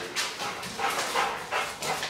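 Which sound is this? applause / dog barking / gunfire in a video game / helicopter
dog barking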